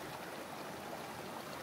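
A clear river in the Australian bush flowing steadily, a constant broad rush of water with no breaks, heard close and alone.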